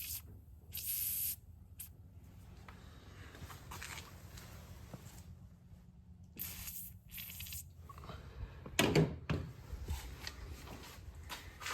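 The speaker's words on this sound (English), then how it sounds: "Let's get that stuff sprayed in there and let's see how this door opens." Chain lube is sprayed onto a Ford Transit door hinge in a few short, quiet hissing bursts, with soft rustling and handling noises and a clank near the end.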